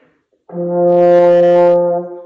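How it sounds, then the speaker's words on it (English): A single sustained open middle C on a French horn, warm and mellow, swells in after a brief silence, holds steadily for over a second, then fades. "a great place to start for that one for the French horn is just on middle C"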